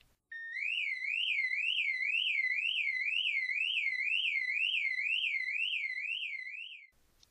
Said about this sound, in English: A European Car Alarm.